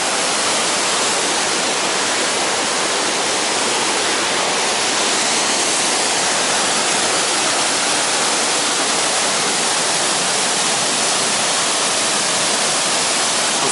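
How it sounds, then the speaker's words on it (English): A roughly 70-foot waterfall beside a Llanberis footpath gives a loud, unbroken broadband roar of falling water, steady and close throughout with no other sounds. "That's an impressive waterfall."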